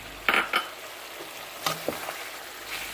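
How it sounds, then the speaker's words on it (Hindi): Chicken karahi with green chillies sizzling in a wok as it is stirred, with a constant frying hiss and a few sharp scrapes and clinks of the spoon, close up, with no voices. "बस 3 मिनट तक और इसकी भुनाई करनी है"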